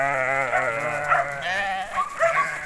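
Sheep bleat in wavering, drawn-out calls at winter feeding time in minus 15 cold, several animals overlapping at moderate distance, with faint voices mixed in.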